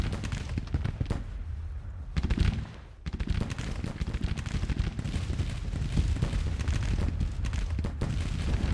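Massed gunfire from a Civil War battle in the Grand Tactician strategy game, Union campaign of spring 1861, rolls on as dense, overlapping crackling volleys with deep rumbling booms, loud and nearly continuous apart from a short lull early on, with no talking.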